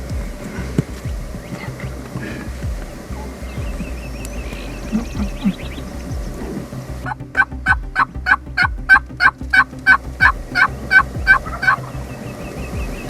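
Wild turkey gobblers in Texas woods on the opening day of turkey season, quiet rustling at first, then a loud close series of rapid rattling gobbles repeating in quick bursts for the last several seconds.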